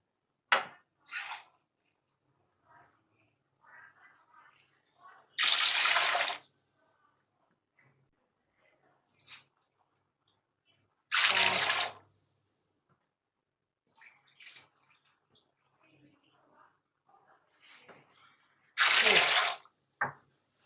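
Water poured from a cup into a pot of soaked rice for chana pulao, three short splashy pours several seconds apart, with faint kitchen clatter in between.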